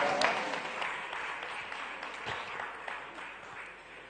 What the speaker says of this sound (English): Please, a round of applause for Vodafone